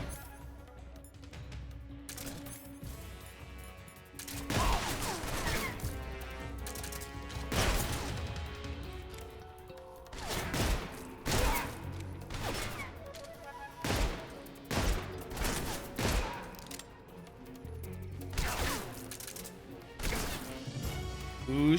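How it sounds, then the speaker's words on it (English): Gunfire in the video game Metal Gear Solid Delta, with repeated bursts of shots and sharp cracks over a steady game soundtrack for about twenty seconds, loud and close, with no one talking. "Who's shooting me? Where are you shooting me from?"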